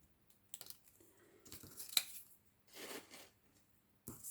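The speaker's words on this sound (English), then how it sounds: "try and keep your scissors straight and turn" Scissors snipping around a stamped paper image for a handmade card, a few quiet crisp cuts and paper rustles spread across a short stretch, close and soft with pauses between them.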